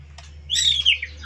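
A five-month-old white-rumped shama, or murai batu, gives a short, bright whistled phrase with a sweeping, warbling chirp, close and clear over a low background hum.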